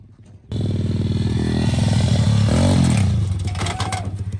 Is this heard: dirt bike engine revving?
yes